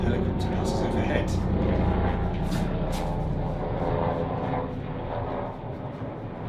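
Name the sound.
helicopter passing overhead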